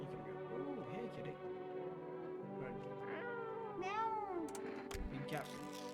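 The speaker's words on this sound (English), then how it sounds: "Ooh, hey kitty." A cat in the video game Who Is Human meows several times, rising and falling cries close up over a continuous bed of game music, with some vocal murmuring mixed in.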